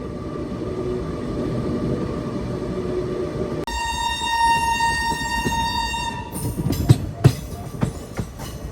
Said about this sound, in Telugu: అటు సైడ్ ట్రాక్ మీద ఏదో ట్రైన్ కూడా ఉంది.